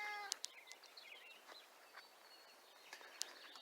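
A cat meows in a quiet outdoor yard near a rusty iron boom truck part, a few short high cries spread across the clip, faint and somewhat distant, with occasional bird chirps and no talking.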